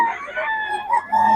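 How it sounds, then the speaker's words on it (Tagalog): A rooster crows in a long, drawn-out call, fairly close, followed by another rising crow, with no talking. "Ang manok ni Boss Ga mga idol"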